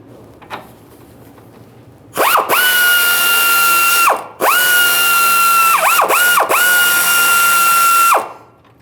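A power tool spins off the 17mm sway bar link mounting nut on a 1994-2001 Dodge Ram 1500 in two long, loud, close whining bursts, with pitch dips as it loads and a short pause between them.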